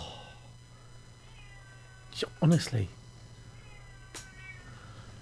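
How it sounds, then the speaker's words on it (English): A house cat meows at a dog, a couple of drawn-out, close meows over a steady low hum, with a person speaking a single word nearby. "That's the cat annoying the dog, because that's what he does."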